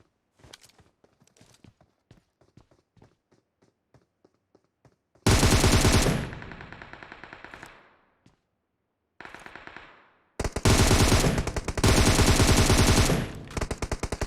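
Video game gunfire: a few scattered single shots at first, then long, loud bursts of rapid automatic fire broken by short pauses, close and harsh, with no talk over it.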